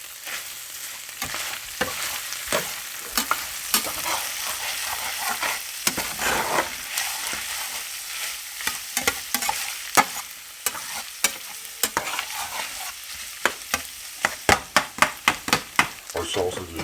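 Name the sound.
sweet Italian sausage frying in a pan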